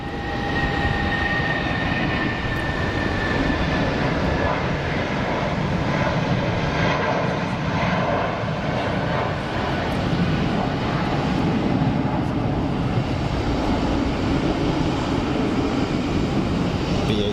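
Airbus A319 shuttle jet taxiing out at Geneva Airport, a steady rumbling engine drone with a thin whine that fades early, continuous and moderately distant, without speech.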